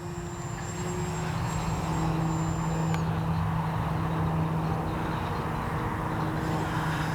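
Durafly Tundra TPX radio-controlled airplane in flight, its electric motor giving a steady, close droning buzz with a thin high whine that drops away partway through, continuous and without talk.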